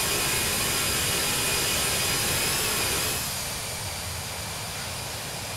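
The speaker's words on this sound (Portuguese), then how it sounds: "Deixa eu fazer o start do motor aqui logo." An Airbus A320-214 jet engine in Flight Simulator X spools up as a loud, steady broadband roar with a thin whine, holding level before easing slightly quieter partway through, with no talking.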